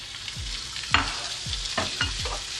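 Keema, about 1.5 pav (half a kilo) of minced meat, stirring and frying in a pan with browned onions, with steady sizzle and repeated scraping strokes of a spoon close by.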